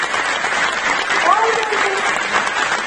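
An audience claps in a hall, a light, steady wash of applause that holds for about three seconds, with a voice faintly under it.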